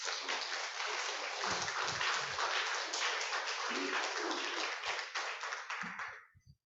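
An audience applauds a speaker's introduction at a lecture on reading Jane Austen, with dense, sustained clapping that holds steady for several seconds before thinning out and stopping.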